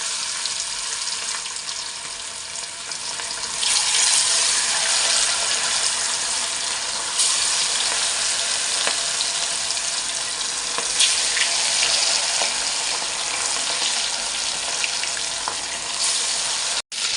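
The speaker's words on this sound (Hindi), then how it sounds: "तो हमारा गर्म हो गया, तो अब एक एक करके इसको डालते हैं और फ्राई करते हैं।" Masala-marinated fish pieces fry in hot oil, a loud, steady broadband sizzle that swells as more pieces go in and holds for the whole stretch, with no talking over it.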